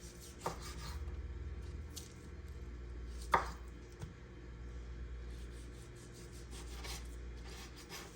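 A knife saws through a Costco beef chuck roll, trimming off a burnt-looking piece: quiet, close slicing and rubbing strokes over a low hum, with a few sharper knocks of the blade against the board.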